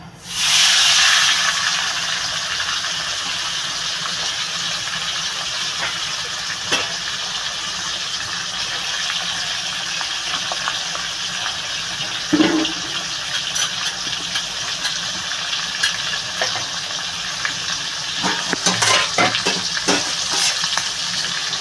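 Fish bladder and eggplant pieces sizzle and hiss steadily in hot oil, a loud continuous frying crackle from start to finish with a few brief stirring clatters and spatters near the end.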